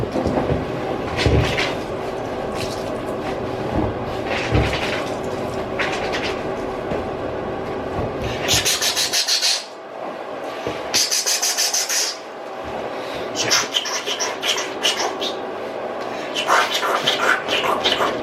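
A voice imitates scrubbing clothes with repeated raspy, rubbing mouth noises in steady bursts, broken by short hissy pauses.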